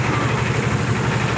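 A boat engine idles steadily, close and loud, with a low throbbing pulse through the short stretch, on a river trip near the hills of Bholaganj, Sylhet.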